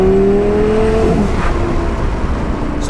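A twin-turbo Lamborghini Gallardo making 1106 wheel horsepower accelerates hard from about 40 to 80 mph, its loud, close engine roar rising then dropping in pitch within seconds.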